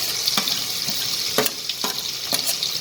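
Crushed garlic sizzles in oil and butter in a hot kadai, a steady bright hiss broken by a few sharp spatters and stirring scrapes, close and fairly loud with no talk.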